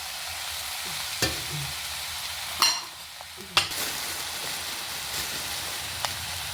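Capsicum and potato pieces frying and being stirred in a pan, a soft steady sizzle with a few sharp clacks of a spoon against the pan, no voices.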